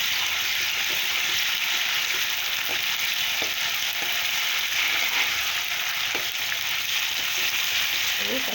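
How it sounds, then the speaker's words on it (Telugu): A paste for shrimp gongura curry frying in a pan, giving a steady, loud sizzle that carries through the whole stretch, with faint scrapes of stirring and no talking. "వాసన పోయే వరకు ఫ్రై చేసుకోవాలి"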